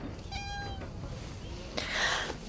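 A pet cat meows a few times close by, a short rising cry with clear harmonics early on, followed by a brief rustle, heard alone without speech.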